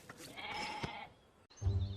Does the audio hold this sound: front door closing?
no